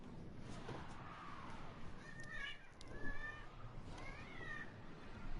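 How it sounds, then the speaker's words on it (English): A cat in the video game Warframe meows several times in short, rising calls over a dense, constant bed of game noise. "Did I roll over a cat?"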